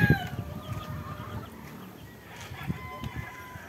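Breeding hens with chicks cluck softly nearby, with occasional louder calls and faint chirping in a quiet farmyard.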